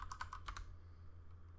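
Quick keystrokes on a computer keyboard as a password is typed during a Linux installation: a brief burst of close clicks over the first half second, then only a low hum.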